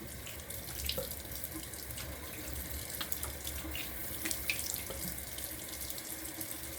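Water streams steadily from a tap into a sink for rinsing off after a shave, a constant close splashing with no talk.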